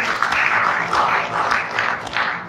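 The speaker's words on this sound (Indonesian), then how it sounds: "Tepuk tangan untuk kita semuanya." A seated audience at a government career discussion forum claps, a dense, fairly loud wash of applause that swells and dips over a couple of seconds without any speech on top.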